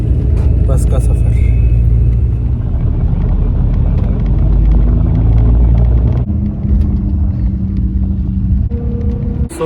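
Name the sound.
bus engine rumbling on night ride to Jaisalmer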